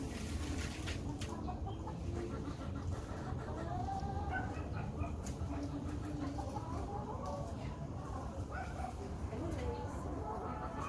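Excited backyard chickens clucking throughout, with busy overlapping calls under steady outdoor background noise and some voice-like sounds.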